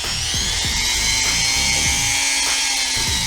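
A variable-speed rotary tool, an alternative to a Dremel, runs with a loud, steady high-pitched whine throughout, its motor pitch shifting slightly as the speed changes, with no talking.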